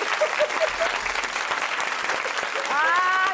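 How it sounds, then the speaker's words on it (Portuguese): A canned crowd applause effect played by a DJ on a Brazilian football talk show fills the clip with steady clapping, and a voice talks over it. "DJ Careca ainda botou uma plateia aqui"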